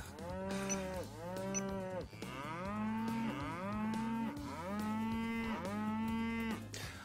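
Cattle in the Farming World video game moo repeatedly in a steady series of long, loud, drawn-out calls, one after another, with no talk over them.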